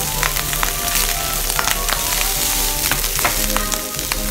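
Loud, continuous sizzling and crackling of frozen fried rice frying in a hot oiled stainless steel pan, with scattered pops throughout.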